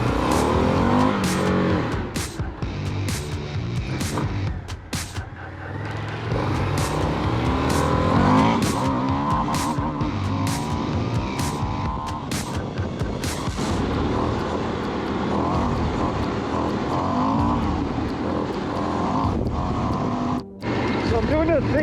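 An Indian FTR 1200 Rally motorcycle ridden, partly off-road, its engine droning and rising in pitch through the gears with wind noise and bumps, while a rider talks intermittently over it.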